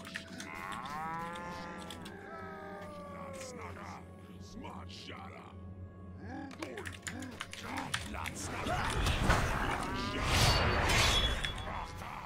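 Cattle moo repeatedly in the video game Lord of the Rings Online, several drawn-out calls over a low ambient hum, with keyboard typing and someone talking over the later part.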